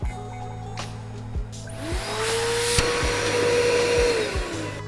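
A Wessex wet and dry vacuum runs in blowing mode, its motor spinning up to a steady loud whine that holds and then begins to wind down, with some knocking and handling noise at the start.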